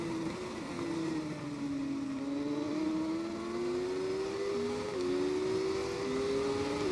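Racing motorcycles in the TT Isle of Man 2 game, including a Triumph Daytona, Honda and Kawasaki, droning steadily as engines rise and shift pitch through gear changes, close and continuous with no talk.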